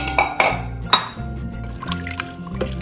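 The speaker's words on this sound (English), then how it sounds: "So we are going to add 3 cups of water." Water poured from a cup into a pot of mixed dal, a few splashing glugs followed by a gurgling, bubbling fill, close and fairly loud with no talk.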